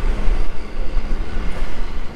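New York AirTrain airport rail car running steadily, a continuous low rumble of wheels and motion that fills the whole span without pauses.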